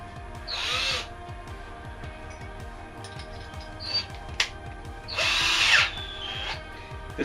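A power drill drives screws in two bursts of high whirring with a ratcheting rattle, close and loud, separated by quiet handling sounds during sculpture construction.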